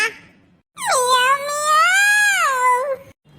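A cartoon cat lets out one long, loud, wavering meow that rises and falls, close and clear, preceded by a brief fainter sound and followed by silence.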